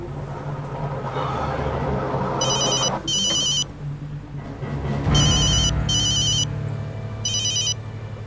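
A telephone rings in repeated short electronic bursts, two rings then two more and a final one, over a steady low rumble of background noise.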